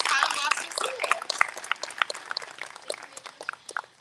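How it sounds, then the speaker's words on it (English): Scattered audience clapping after a school choir's spring concert performance, fading into sparse claps with some voices over it. "Can I get another round of applause for Ms. Erin Anderson and the Piney Woods Co"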